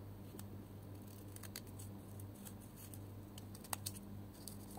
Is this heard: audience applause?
no